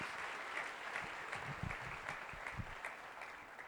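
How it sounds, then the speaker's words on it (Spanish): A church congregation claps together during a sermon, a sustained wash of hand claps at moderate level with a few heavier thumps underneath and no voice on top. "denle un aplauso al Señor si quiere"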